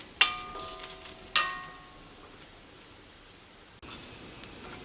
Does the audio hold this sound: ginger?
yes